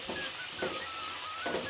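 Spice-coated masala with curd and powdered turmeric, chili and coriander is stirred in a hot pan, giving a steady sizzle with a few soft scraping strokes of the spoon.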